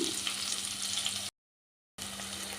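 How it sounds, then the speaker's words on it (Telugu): Thinly sliced onion fries in a pan with a dense, steady, hissing sizzle, close and fairly loud, broken by a brief silent gap midway before the sizzle resumes. "ఆనియన్ కూడా చక్కగా ఫ్రై చేసుకుందాం"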